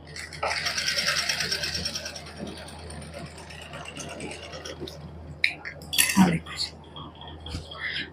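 Simple hand-operated home sewing machine stitching a decorative design around a round neckline with thread from five reels, a faint mechanical whirring and clicking, with quiet speech alongside.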